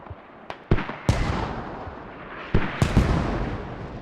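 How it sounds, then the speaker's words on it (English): Mortar rounds land in a Squad tournament match, several sharp broadband blasts spaced irregularly, some close and loud, others more distant, each with a rumbling tail over a constant background rush. "Now mortars are coming in from"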